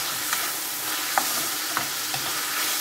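Meat sizzles and fries in a pan for a Filipino ginisang sayote, a continuous crackling hiss with a few sharp stirring scrapes and ticks, close and alone.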